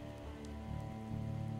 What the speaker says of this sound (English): Better not stand in the rain any longer than I need to, then.